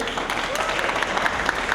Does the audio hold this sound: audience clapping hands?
yes